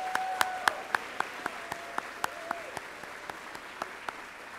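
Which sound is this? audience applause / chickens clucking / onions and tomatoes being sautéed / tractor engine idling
audience applause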